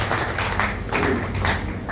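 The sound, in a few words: audience applause welcoming a speaker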